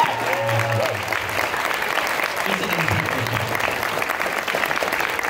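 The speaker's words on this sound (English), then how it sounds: "round of applause" Loud crowd applause at a dance competition awards announcement, dense continuous clapping close by with voices and cheering mixed in underneath.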